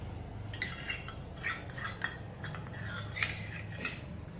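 A spoon stirring milk with milk powder as it boils in a pot, giving soft scraping clinks against the metal at a steady rhythm over a low bubbling hum, close and without talk.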